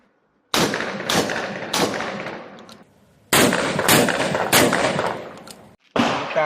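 A Saiga-12 semi-automatic 12-gauge shotgun with an all-steel frame fires about eight loud, close shots in quick groups, with brief pauses between the groups.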